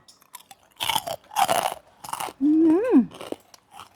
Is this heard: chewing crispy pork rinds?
yes